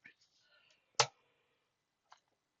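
A few isolated keyboard clicks as a network command is typed, one sharp keystroke standing out between fainter taps, close and quiet with long silences.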